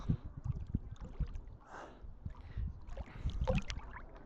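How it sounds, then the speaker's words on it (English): A river flows past a beach near Vilnius, with soft gurgles, laps and uneven splashy bursts of water close by, faint and irregular. "You can feel how the river is flowing"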